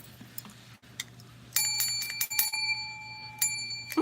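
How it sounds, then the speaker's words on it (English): A small bell rings repeatedly in an online crochet meeting, sharp metallic strikes with ringing overtones clustered in quick bursts, near and fairly loud. "Love the bell, Kathy."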